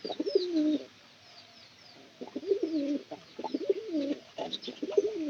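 Pigeons coo in repeated throaty bursts close by, a pause in the middle and then several overlapping coos in a loft setting with no voices.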